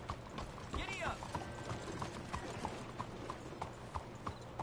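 Horse hooves clip-clop at a steady trot on a dirt trail in the Red Dead Redemption II video game, a continuous moderate rhythm against faint outdoor ambience with a brief bird whistle.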